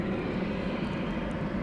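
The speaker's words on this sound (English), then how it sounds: "aeroplane is now sneaking away." A Spirit airplane taxis away at DFW Airport in North Texas at twilight, giving a steady, even jet engine roar and rumble that stays constant with no speech.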